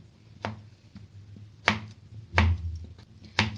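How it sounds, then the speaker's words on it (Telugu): A knife pokes holes into bottle gourd pieces for a masala curry. Four or five sharp, separate taps and thuds land at uneven intervals with quiet gaps between them, close and clear with no talking. "ఈ విధంగా ముక్కలన్నిటికీ ఇలా హోల్స్ పెట్టుకోవాలి"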